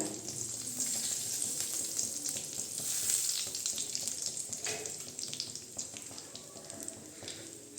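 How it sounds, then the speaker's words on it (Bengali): Whole cumin seeds frying in hot oil, with fish fried just before, for a Bengali fish and vegetable jhol, give a steady, bright crackling sizzle. It is close and continuous, with a few louder pops and some light clatter, and nobody talks. "এখন এই তেলেই আমি এখন দিয়ে দিব গোটা জিরা।"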